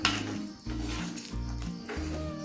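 Spoon stirring egg curry in a pan after meat masala is added, a soft continuous scraping and sizzle close up, with steady background music underneath.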